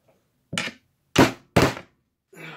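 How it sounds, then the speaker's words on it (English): Hammer tapping on a clamp while fitting an inline clip during a TKO build: three sharp, close knocks roughly half a second apart, then a softer fourth tap, with quiet gaps between. "So I'm just going to tap up here on the clamp."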